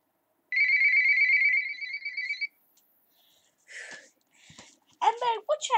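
Mobile phone ringtone ringing with a steady electronic two-tone pattern for about two seconds, fairly loud and close, followed by quiet clicks and a person speaking.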